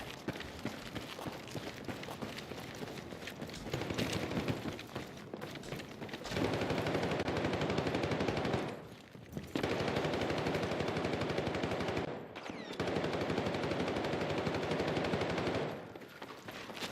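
Sustained bursts of automatic gunfire from a video game, dense and loud, pausing briefly a few times between long volleys, with no talk over it.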